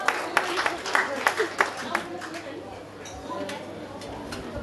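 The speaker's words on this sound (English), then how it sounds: "A big round of applause for everyone" An audience claps at a fashion show, opening with scattered sharp claps that fade into a softer crowd murmur, while a voice continues talking over the room.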